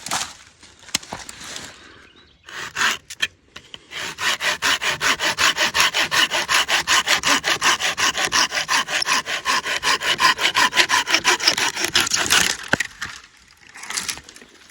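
A Bahco PG72 folding saw cuts through a wood limb in fast, even back-and-forth strokes, a loud, rhythmic rasping that runs for several seconds after a few short starting pulls, then stops.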